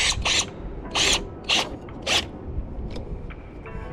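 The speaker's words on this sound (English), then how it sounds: "get my 7mm socket, tighten these on here" Ratchet with a 7mm socket tightening bolts on a cold air intake on a Dodge Challenger: four quick, bright bursts of clicking close up, then a few fainter, sparser clicks.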